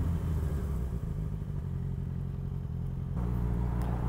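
A motorcycle rides along a road and overtakes a vehicle, its engine a loud, steady low drone close by that shifts pitch slightly as it pulls past.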